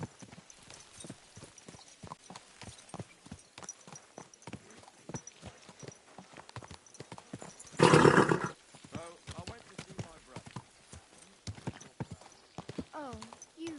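Horse hooves clip-clop steadily throughout a medieval video game scene in Kingdom Come Deliverance 2, with a loud burst of noise near the middle and a whinny toward the end, while a voice talks over the hoofbeats.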